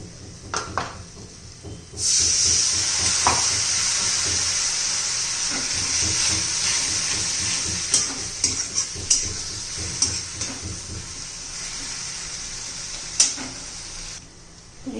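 Steady sizzling hiss of eggplant frying in a pan for a dry curry, with occasional stirring scrapes and clinks throughout.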